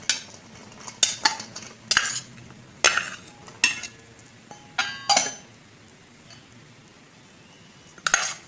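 Boiled potatoes and chickpeas for aloo chana chaat dropped into a bowl, giving a series of sharp utensil clinks and scrapes against the dish, spaced irregularly with quiet gaps, close and fairly loud.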